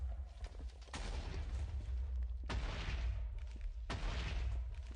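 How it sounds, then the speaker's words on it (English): Minecraft explosions, several loud broadband blasts with long rumbling tails arriving in bursts over a constant low background roar, with no talk. "Oh, that's a massive explosion area."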